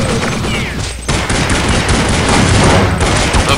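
Rapid automatic gunfire in Counter-Strike 1.6 on a Mario Castle GunGame map, loud and continuous bursts filling the whole stretch, with a brief lull before the shooting resumes even denser.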